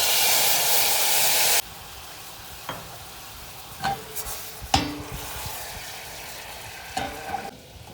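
Rice wine vinegar hits a hot pan of sugar with a sharp, loud sizzling hiss that cuts off after about a second and a half, followed by quieter scattered clinks and scrapes of a utensil against the pan.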